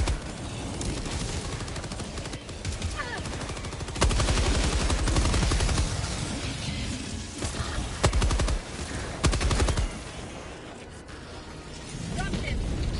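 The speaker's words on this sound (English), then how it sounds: "Shooting, okay, I'll shoot." Gunfire in the co-op shooter Helldivers 2, with dense bursts of rapid shots and clattering mechanical effects over game ambience, loudest in stretches mid-clip, while players talk over it.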